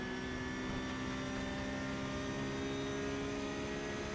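A Porsche 992 Cup car engine held at full throttle in the iRacing simulator at Virginia: a constant, loud, droning engine tone with steady harmonics, no gear changes or pauses, and no voices over it.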